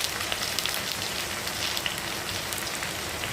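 Cumin and ginger paste fry in a pan in a home kitchen, giving a steady, soft crackling sizzle with faint spitting pops throughout and no talking.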